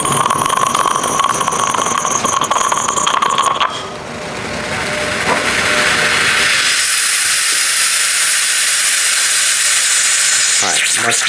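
An Odyssey Argos small-batch espresso machine flushes to cool its boiler, with a loud sputtering hiss of water and steam for several seconds, briefly easing, then settling into a steady rushing hiss.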